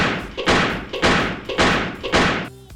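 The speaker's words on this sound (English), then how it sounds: "one of the characters is trying to invent the voice command system in order to close the door with the trigger name of Vangeli" A door in a movie scene slams shut in a series of about five heavy thuds at an even pace, each loud and close, followed by a short tail of quieter noise.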